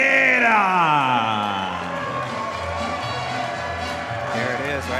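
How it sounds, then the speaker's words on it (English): Boxing arena crowd roaring and whooping loudly as a fighter from Stockton, California makes his ring walk, a dense sustained wall of cheers with music-like tones in the opening seconds and swelling yells near the end. "you heard that crowd get loud"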